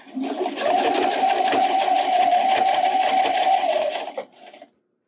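A sewing machine stitches a wireless bra, its motor humming in a fast, even rhythm for about four seconds, close and loud, before slowing to a stop.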